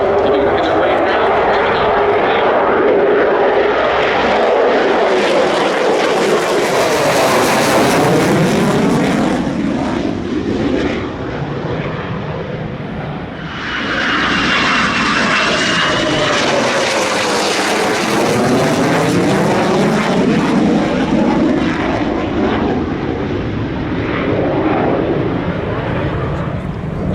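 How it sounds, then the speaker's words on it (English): F-22 fighter jets at the Oshkosh airshow, a loud roaring pass that swells and fades twice with Doppler sweeps, with an announcer talking over the engine noise. "The F-22s as they work their way inbound again from the left."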